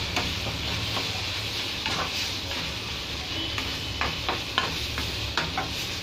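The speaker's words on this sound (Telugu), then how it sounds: "కొంచెం ఫ్రై చేస్తున్నాను చూడండి" Chili powder frying in a pan for a brinjal and broad bean tomato curry, a soft continuous sizzle with spoon scrapes and light clinks against the pan, close, no talk.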